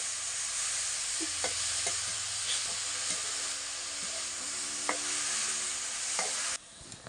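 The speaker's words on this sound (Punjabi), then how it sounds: "ਪਿਆਜ਼ ਆਪਣੇ ਭੁੱਜ ਗਏ ਜੀ ਥੋੜੇ ਭੁੰਨੇ ਨੇ" Onions frying in a pan, a continuous soft sizzle with occasional scrapes and taps of a stirring spoon, fairly quiet and steady, fading abruptly near the end.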